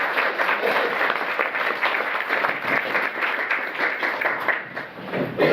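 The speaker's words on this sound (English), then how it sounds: "please give them a round of applause" An audience at an academic talk series gives a sustained round of applause, dense, even clapping from many hands throughout, with no speech over it.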